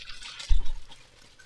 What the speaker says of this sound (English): And we mix it with the electrolytes, and we water it down a little bit.